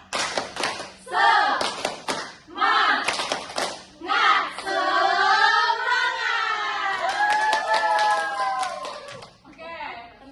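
A class of students does a tepuk semangat clapping chant, patterned hand claps alternating with loud children's voices chanting together, then sustained group shouting, close and energetic.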